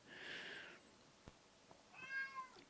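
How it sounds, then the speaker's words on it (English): Cat meowing indoors, two distinct meows about two seconds apart, fairly faint and close, with a couple of small knocks between them and no talk. "I got a cat down here meowing at me."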